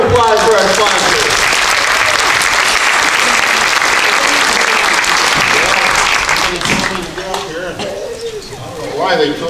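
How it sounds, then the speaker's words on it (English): An audience applauds sponsors at a 2023 variety show, loud continuous clapping with some whoops that carries on for several seconds before thinning out as voices start to come through. "Let's give a round of applause for our sponsors"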